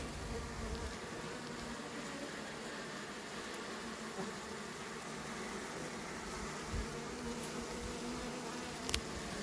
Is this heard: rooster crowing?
no